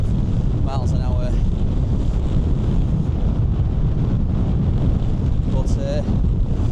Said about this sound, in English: I'll just give you a bit of a demo there, how windy it is.